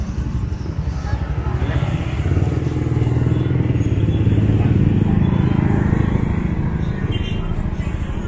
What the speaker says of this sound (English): So we are on a motorbike now